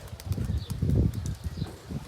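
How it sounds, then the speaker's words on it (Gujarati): Pigeons taking flight from a home loft, a flurry of flapping wings with quick soft beats swelling in the middle and then fading, close by. "જો 4 કબૂતર ઉડવા માંડ્યા છે"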